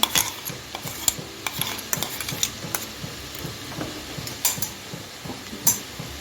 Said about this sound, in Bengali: এক মিনিটের মতো কষিয়ে নিচ্ছি